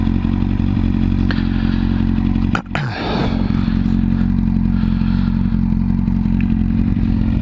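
A motorcycle engine runs steadily with a loud continuous drone, then a brief clunk and thud from shifting gear before it pulls away, close to the listener and with no voices.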